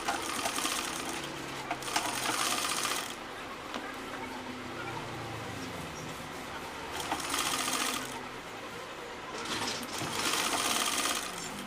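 A sewing machine stitches a blouse collar in bursts of fast, steady whirring, running at about 0–3, 7–8 and 9.5–11.5 seconds with quieter pauses between runs.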